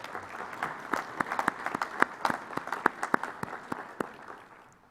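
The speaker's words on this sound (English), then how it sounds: "I think you should give yourselves a round of applause" Applause from a school audience at an archdiocesan secondary schools forum, a dense patter of many hands clapping steadily for several seconds before fading out.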